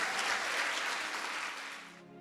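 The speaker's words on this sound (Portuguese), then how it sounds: "Então aplauda Jesus." A church congregation applauds together, a dense, fairly distant wash of clapping that holds steady for about two seconds and then cuts off abruptly.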